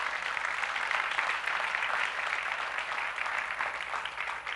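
A conference audience at a 2014 launch event breaks into applause, a steady, even patter of many hands clapping, fairly soft and distant, with no voices over it.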